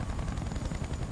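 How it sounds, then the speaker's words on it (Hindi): A helicopter in the video game Battlefield: Bad Company 2 flies close, its rotor giving a dense, continuous pulsing roar throughout. "फाइनली पायलट ने हेलीकॉप्टर उड़ाया।"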